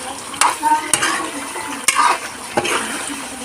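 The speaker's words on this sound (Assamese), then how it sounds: "এইফালে হাঁহ মাংসৰ গোটা ভাজি" Chunks of duck meat fry in oil with pumpkin and potato, a close sizzle interrupted by several scraping, clattering strokes of a spoon stirring the pan, with no speech.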